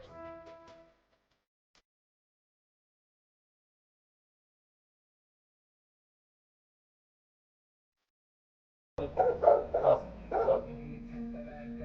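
A dog being tested with an electronic dog repeller yaps and whimpers briefly at the start, then after a long silence gives a burst of loud, close barking and yelping.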